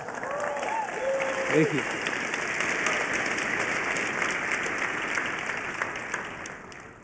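A large keynote crowd at Cisco Live in Las Vegas breaks into loud, sustained applause that fills the hall evenly, while a voice briefly speaks over the start of it.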